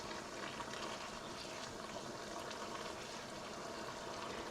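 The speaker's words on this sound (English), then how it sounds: "I'm just going to take a spoon and ladle over some of that beautiful sauce" Thai red curry sauce is spooned over haddock in a pan. Wet, bubbling liquid sounds with a soft, steady simmering fizz, quiet and close, with no talk.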